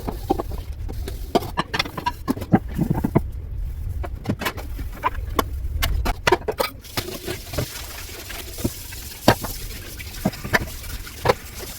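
Dishes and cooking pots being scrubbed and washed in a home kitchen: irregular clinks, knocks and scraping taps scattered throughout over a steady low background hiss, fairly close, with no talking.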